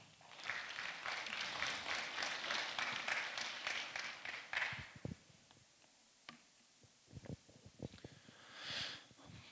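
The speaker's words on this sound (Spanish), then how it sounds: "su intervención recibimos con cariñosos aplausos" At a ceremony marking the 61st anniversary of a university's professional engineering school, an audience claps steadily for several seconds before the applause fades into scattered, faint claps and room noise.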